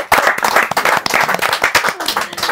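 Audience clapping at a podcast with the cast of a Gujarati film, a brief burst of dense, close, loud hand claps with no talk over it.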